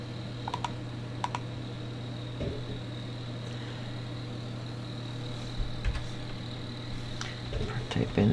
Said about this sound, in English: Type in the permissions.